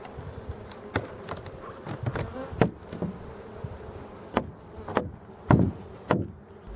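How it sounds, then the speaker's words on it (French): Honeybees buzz around an open beehive super in a traditional apiary, with steady insect hum broken by sharp knocks and clicks from the wooden hive parts. "on peut voir que partiellement les abeilles sont réparties dans la hausse"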